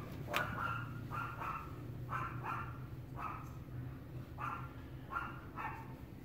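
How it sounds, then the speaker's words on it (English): A neighbor's dog barks at chickens repeatedly in short bursts at a distance, a steady string of faint woofs over low background hum. "the neighbor's dog is barking at the chickens"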